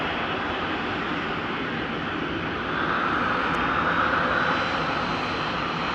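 Virgin jet airliner departing Amsterdam Schiphol Airport bound for Tbilisi: a steady, loud broadband engine roar with a hissing whine that swells slightly midway, continuous throughout and with no voices.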